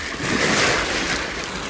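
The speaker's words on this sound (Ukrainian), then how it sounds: "Хочу показати, яка волна йде велика." Large sea waves roll toward the shore on the Croatian coast, a loud, continuous broadband wash of surf mixed with wind buffeting the microphone.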